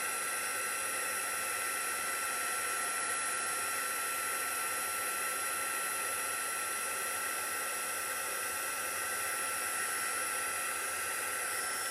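A heat embossing tool blows hot air to melt clear embossing powder over shimmer paint. It gives a steady, even, hair-dryer-like whoosh at moderate distance, constant for the whole stretch with no talking.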